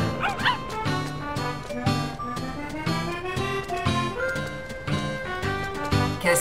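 Virtual puppy barks in the Nintendogs video game, repeated yips riding over a bouncy, loud background music track, with no talk.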